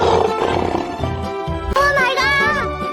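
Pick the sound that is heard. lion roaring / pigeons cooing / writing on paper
lion roaring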